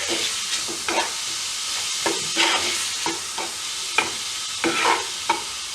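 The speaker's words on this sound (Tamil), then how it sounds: "போட்டுட்டு அதை நல்ல வடிவாக இருக்கா கொஞ்சம் நேரம் மிக்ஸ் பண்ணுங்க" Sugar being stirred into mango in a pan, with repeated close scraping strokes of a spoon over a steady background hiss.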